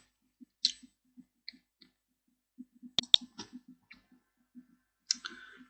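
Scattered computer mouse clicks, soft and close, tapping at an irregular pace with a brief cluster of sharper clicks midway.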